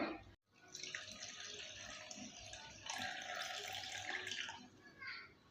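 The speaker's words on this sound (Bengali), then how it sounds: "আর ভালো করে সুজিটা আমি ধুয়ে কিছুক্ষণের জন্য রেস্টে রেখে দেব" Water runs from a tap over semolina being washed, a steady splashing flow that briefly cuts out near the start and swells again midway, fairly quiet and close.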